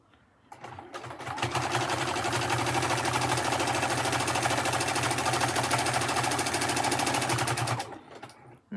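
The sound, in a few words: sewing machine stitching slowly through fabric pouch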